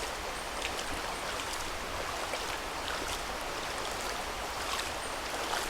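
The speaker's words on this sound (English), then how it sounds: "The river is a very pure, clean, as you can see, river." Steady, even rush of clean river water flowing at White River near Ocho Rios, Jamaica, a continuous broadband wash with faint splashes and no voices.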